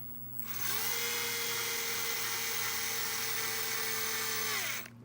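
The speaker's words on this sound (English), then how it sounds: "as soon as I hear the motor take a little bit of strain, or the sound changes" A power driver motor whines steadily at close range as a screw tightens, its pitch sagging slightly under load before it spins down.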